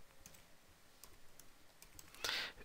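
Computer keyboard typed at a desk while entering a line of text into a Unix shell script, giving faint scattered key clicks with a brief louder burst of keystrokes near the end.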